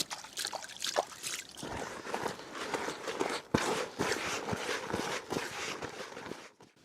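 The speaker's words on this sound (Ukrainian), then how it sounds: "додамо водички і ретельно все вимішаємо" Water is poured into fishing groundbait in a bowl and worked together by hand, giving a steady wet, crunchy squelching and trickling with irregular rustling handfuls, close and fairly quiet throughout, with no talking.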